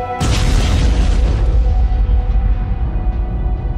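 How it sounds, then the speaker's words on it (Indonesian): A big film explosion as a plane engine blows up, a sudden deep boom followed by a long, heavy roaring rumble that holds loud for several seconds, with no talk over it. "ledakan besar pun terjadi"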